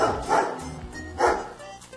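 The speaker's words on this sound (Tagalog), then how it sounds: "Ayan na naman yung mga aso." Dogs bark in two short bursts, moderately close, with quieter yips and whimpers between them and faint voices in the background.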